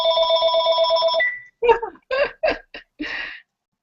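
Telephone rings during a phone call as a steady electronic tone lasting about a second, followed by short bursts of voice or laughter.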